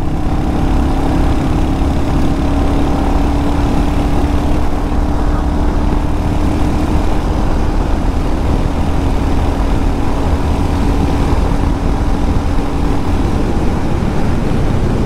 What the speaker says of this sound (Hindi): चलो थोड़ी सी बाइक को भगाते हैं।